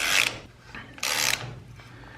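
A tap or thread-chasing tool works damaged threads on a Legend car after a collision, producing repeated ratcheting, rasping bursts close by with short pauses between turns.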